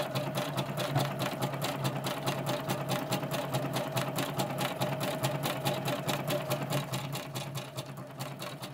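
A sewing machine runs steadily stitching a zigzag pattern on fabric with leaves, a fast continuous mechanical rattle of the needle at an even rhythm, close and alone.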